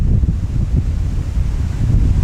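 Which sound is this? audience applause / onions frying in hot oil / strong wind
strong wind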